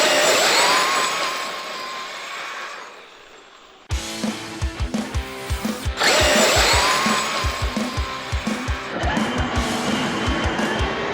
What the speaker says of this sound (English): Let's start her off with launch on the pavement.